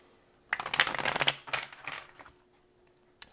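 Tarot cards are shuffled up close, giving a loud riffling burst followed by a couple of softer shuffles that fade into quiet, with a small tap at the end.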